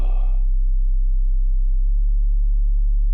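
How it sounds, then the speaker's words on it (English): A steady pure sine tone from the VCV Rack modular synthesizer drones loud and continuous, stepping down slightly in pitch partway through, after a brief breathy noise at the start. "if we just want a sine wave, we can see how good our frequency response is of our headphones or our speakers"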